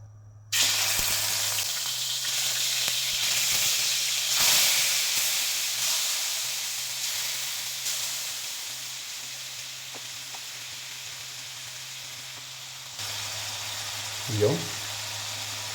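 Food frying in a little cooking oil in a pan, a steady hiss and sizzle that starts abruptly and slowly fades, with a low hum underneath and a brief clatter near the end.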